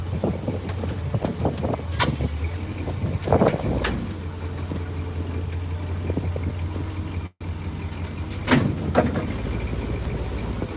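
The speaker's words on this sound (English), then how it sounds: "it's an understatement to describe how hard it is to drive a forklift with one hand" A forklift engine idling in an apple orchard, a faint low steady hum running under scattered knocks and clatter, with no talk.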